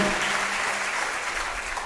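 Steady, dense applause from a live audience at a stage event, a broad wash of clapping that holds evenly for about two seconds with no talk over it.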